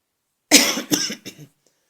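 A single close cough in three quick bursts, the first strongest, followed by silence.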